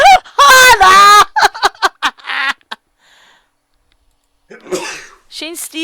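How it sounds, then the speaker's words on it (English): A short, sharp sneeze bursts from under a bed in the video game Asagao Academy, close and loud, set among other brief vocal sounds. "Shane sneezed from under the bed."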